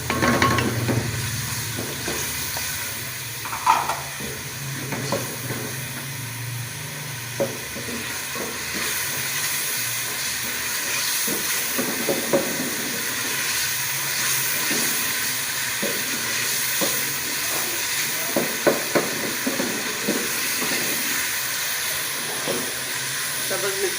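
Tomatoes tipped into fried ginger-garlic paste in a pan: a steady, broad sizzle and hiss running throughout, with scattered scraping and stirring knocks, close and loud.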